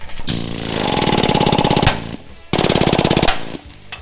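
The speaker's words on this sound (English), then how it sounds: "We're gonna huck rivet this grill insert into the grill surround." Pneumatic huck riveting of 3/16 stainless steel locking huck bolts into a semi truck grill insert: two loud, rapid hammering bursts, each a couple of seconds long with a brief pause between, close up and with no talk.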